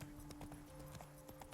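Roach the horse walking in Witcher 3, a steady clip-clop of hooves with regular soft thuds over a constant background hum and music tone, moderately close.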